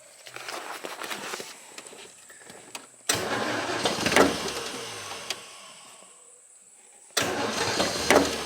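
A 1940 car engine cranks in short bursts and then catches, with two loud rising cranking and starting surges separated by quieter mechanical rattling and clicks, heard up close.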